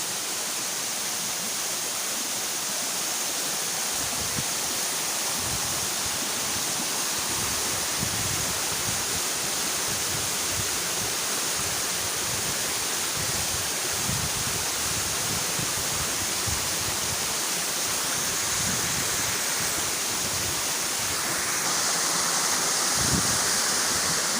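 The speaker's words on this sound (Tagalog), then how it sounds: "Kabagawan Falls" Kabagawan Falls pours in a steady, dense roar of rushing water, loud and continuous with no voices over it.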